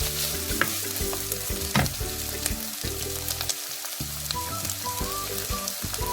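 Sliced onions sauté in a pan with a loud, continuous sizzle, broken now and then by scraping and stirring clatter, close and without talk.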